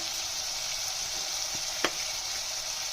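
Spices fry in oil over a low flame for Sindhi pakoda kadhi, keeping up a steady even hiss with one faint light clink near the middle, close and alone without speech.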